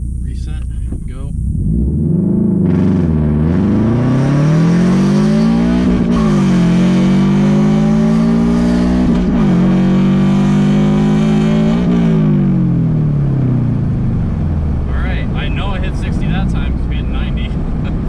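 A modified 2022 Subaru BRZ accelerates hard through a 0-60 run, the engine note climbing loud and strained through several rising pulls broken by gear shifts, with tire and road roar underneath before it eases off.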